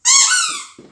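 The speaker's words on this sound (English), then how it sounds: "What about the squeaky toy?" A squeaky dog toy gives one loud, close, drawn-out squeak, played with by a border collie, followed by faint shuffling noise.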